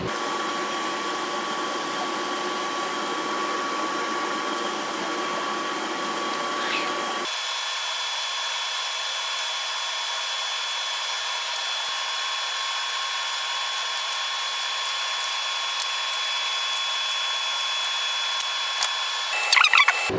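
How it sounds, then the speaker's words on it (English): A cheap heat gun rated to 1100 degrees blows a steady, loud airflow hiss while heating the engine case of a Honda Goldwing, the tone shifting once partway through and running without pause to the end. "Alright, so this heat gun here conveniently goes up to 1100 degrees."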